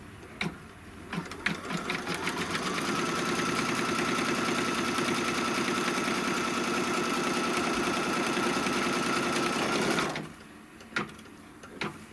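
A sewing machine stitches a long seam on fabric taped down flat, its needle running at a fast, steady whir for about eight seconds before stopping, followed by a couple of light clicks.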